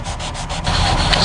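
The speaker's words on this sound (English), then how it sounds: "You're going to take your 400 grade sandpaper again" Hand sanding with 400-grit sandpaper over dried Bondo filler on an iron door, a steady close scratchy rubbing that runs continuously with short rhythmic strokes early on and no talking.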